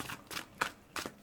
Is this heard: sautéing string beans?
no